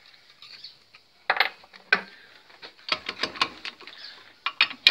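Brake bolt being unscrewed on a Mitsubishi L200 with a ratchet wrench, quick metallic clicks and ticks in short irregular clusters, close and fairly faint, without talk.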